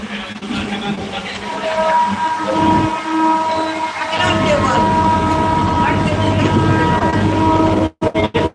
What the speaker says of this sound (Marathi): गाडी आलेली राजुरी रेल्वे स्टेशनच्या मोर बीडच्या जवळ गाडी आलेली